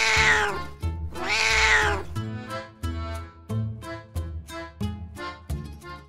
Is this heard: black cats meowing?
yes